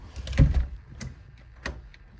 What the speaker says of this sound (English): Hope that door does not slam on me and lock.